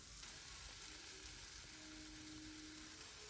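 Meal maker soya chunks frying in a pan for fried rice, a soft, even, continuous sizzle heard at low level throughout, with no talking.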